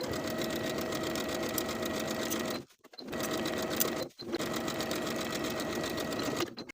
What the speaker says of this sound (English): Sew the inseams from top to bottom on both sides with a 3/8 inch seam allowance.